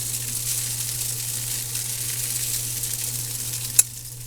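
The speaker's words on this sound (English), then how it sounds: "And then you just fry your hash browns." Hash browns fry in a pan with a steady, soft, close sizzle under a low hum, and a single sharp tap of a utensil near the end.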